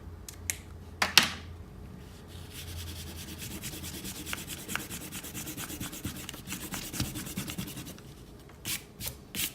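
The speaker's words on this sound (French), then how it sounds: "on peut gommer déjà nos traits de construction" An eraser rubbing out pencil construction lines on paper while drawing a Fortnite skin, quick close scratchy back-and-forth strokes in a steady rapid rhythm, with a few taps and paper handling sounds around them.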